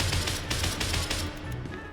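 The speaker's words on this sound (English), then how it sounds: "you can actually hold down the trigger and it'll shoot for you consistently, like any other weapon" Automatic weapon in SCP: Secret Laboratory firing in a rapid continuous burst, close and loud, with no voices over it.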